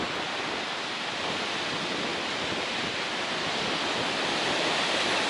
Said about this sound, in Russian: Извините, что будет так ветрено.